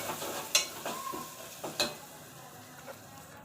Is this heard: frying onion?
yes